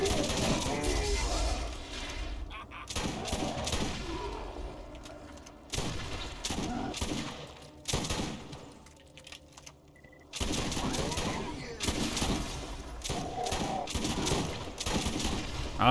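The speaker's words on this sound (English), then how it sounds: "I love explosive shotguns." Rapid bursts of explosive shotgun fire and blasts crackle through a Borderlands firefight, dense and loud with brief lulls between volleys and a faint voice now and then underneath.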